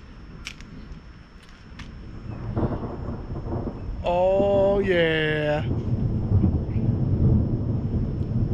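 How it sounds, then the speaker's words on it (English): Thunder rumbles outdoors as a storm rolls in, with someone talking briefly nearby; a low, sustained rumble swells midway and lingers under light wind and possible rain. "storm is about to hit"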